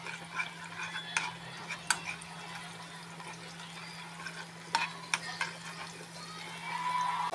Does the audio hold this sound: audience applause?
no